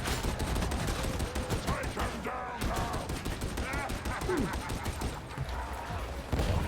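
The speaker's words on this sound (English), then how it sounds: "Pump bullets over in the trapper's direction." Rapid gunfire bursts from Warhammer 40,000: Darktide, dense and continuous, with distorted voices and game effects mixed in under the shooting.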